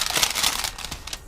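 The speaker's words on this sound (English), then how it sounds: "the way you can tell that this wet palette is done is that the parchment paper is like real crinkly" Parchment paper on top of a wet palette crinkles in a burst of crisp, papery crackles, loud and close, fading a little toward the end.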